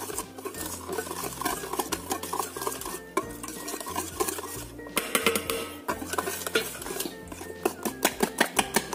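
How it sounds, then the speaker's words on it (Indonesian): A utensil scrapes and clinks rhythmically against a bowl while melted margarine is stirred into a sugar and egg mixture, steady close stirring with small taps, no talk. "Ini kita aduk sampai benar-benar rata."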